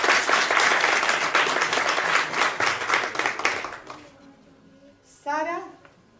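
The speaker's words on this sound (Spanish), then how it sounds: "Bueno, aplaudirle otra vez." Applause from the audience at a conservatory piano competition semifinal in Granada, a full, dense clapping that carries for about four seconds and then fades, followed by a brief voice speaking.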